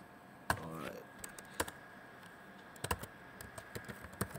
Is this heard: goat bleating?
no